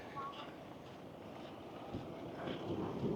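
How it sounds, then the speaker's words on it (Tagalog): Strong wind roars and buffets outdoors in a continuous rumbling gust, growing slightly louder toward the end. "grabe yung hangin."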